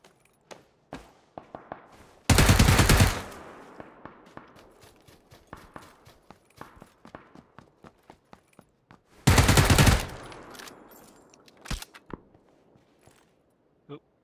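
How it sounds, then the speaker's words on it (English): Gunfire in the battle royale game PLAYERUNKNOWN'S BATTLEGROUNDS, with two loud sustained bursts of rapid fire separated by scattered single shots, clicks and footsteps. "Someone to your right shooting at you there"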